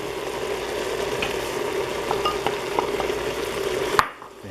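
Diced Roma tomatoes and flour being stirred in an Instant Pot: a steady bed of sizzling and bubbling with soft scraping taps from the spoon, close and fairly loud, ending in a sharp clack before the sound drops away.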